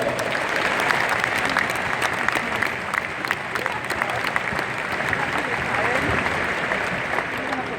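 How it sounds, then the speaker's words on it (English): Sustained applause from a large crowd at a Cleveland Indians Hall of Fame induction ceremony, a steady wash of many hands clapping, with some voices and cheering mixed into it. "So let's give them a round of applause."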